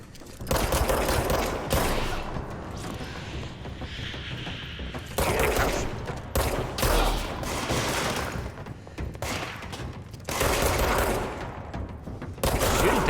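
Gunfire from shooting in the video game Control: loud, dense bursts of rapid shots in several clusters with mechanical clatter between them, with no voices.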